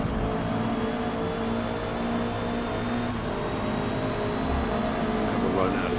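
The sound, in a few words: Honda Civic race car engine in video game Forza Motorsport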